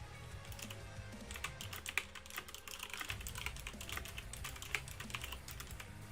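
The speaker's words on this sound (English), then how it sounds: "Oh my god, keyboard." Quiet, steady clicking of a computer keyboard as someone types continuously for several seconds, with a couple of slightly sharper keystrokes standing out, no voices present.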